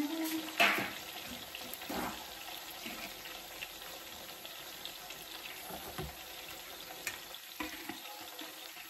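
Eggplant and hotdogs fry in a pan, giving a soft steady sizzle with intermittent scrapes and clinks of a utensil stirring, fairly quiet and close, with occasional brief knocks.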